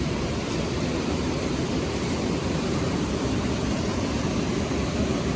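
A waterfall at a creek gives a steady, dense rushing roar with no breaks, close by and fairly loud, and no voices over it.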